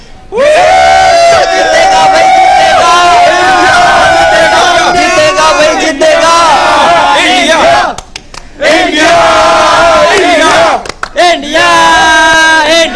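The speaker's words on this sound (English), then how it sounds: "So can we have a final cheer for Team India?" A loud crowd of Indian fans in Brazil roars and chants in support of Team India's World Cup hopes, sustained near cheering with a brief dip before swelling again.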